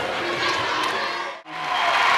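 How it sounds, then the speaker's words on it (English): A big home crowd at a Sulphur Springs high school basketball game against Highland Park, standing, clapping and cheering as the fourth quarter begins. The roar is steady and loud, breaks off briefly partway through, then swells back. "This big Sulphur Springs crowd, a lot of them are standing and clapping here as we come out in the fourth quarter"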